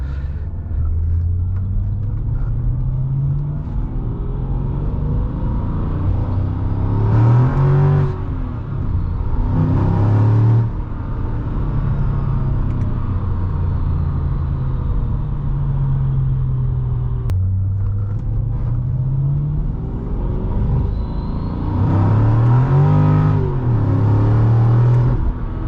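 A 2006 Mercedes-Benz E55 AMG W211 with its supercharged engine pulling hard, the rumble rising through the revs, dropping at each gear change and climbing again across repeated runs, heard from inside the cabin.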